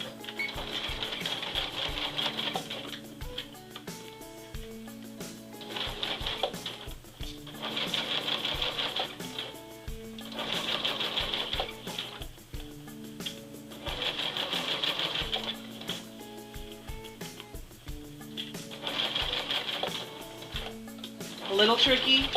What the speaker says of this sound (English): Follow the 3/4 inch guideline on your sewing machine.